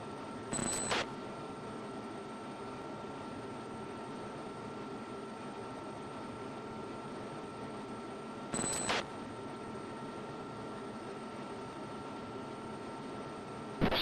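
A fighter jet engine throttled back in the Falcon BMS flight simulator gives a steady, moderate broadband roar that holds level throughout, with two brief sharp clicks near the start and later in the clip.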